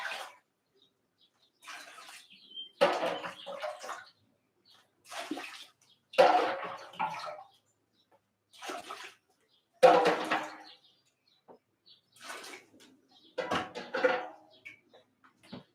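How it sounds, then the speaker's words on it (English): Water splashes into a brewing mash at a home still in a series of separate pours, each a few seconds of loud, close gushing with short silences between them. "Put a little bit of water in here."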